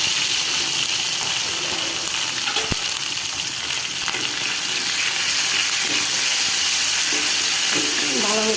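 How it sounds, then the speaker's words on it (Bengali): Ginger garlic paste with salt sizzles loudly in a hot pan, a dense steady hiss with an occasional sharp click of a spatula and faint scraping as it is stirred. "ভালো মতন একটু কষাই নেব"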